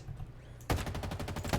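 An assault rifle in Halo Infinite opens up in a sudden rapid automatic burst after a quiet moment, with evenly spaced shots that are loud and close.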